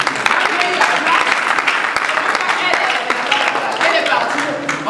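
Church congregation applauding and acclaiming Jesus at a French-language spiritual service, dense continuous clapping with scattered cheers and voices throughout.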